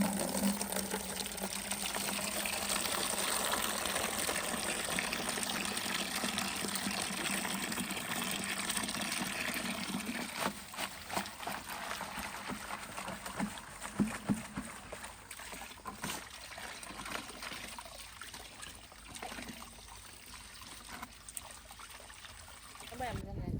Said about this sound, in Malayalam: ഇതിൻ്റെ മൂടൊക്കെ ഒന്ന് ഒലുമ്പിയിട്ട് വരാം വെള്ളത്തിൽ ഈ മണ്ണൊക്കെ ഒന്ന് കളയണം